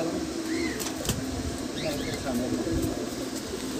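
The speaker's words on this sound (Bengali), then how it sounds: "তো তারপরে আরেকটি পায়রা দেখুন বাচ্চা পায়রাই ওই পেয়ারগুলোরই বাচ্চা" Young pigeons in a pigeon loft coo softly in low, repeated murmurs beneath someone talking and general loft noise.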